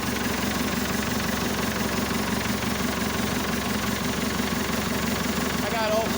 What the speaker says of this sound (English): She's still in idle because you can't rev up a cold engine.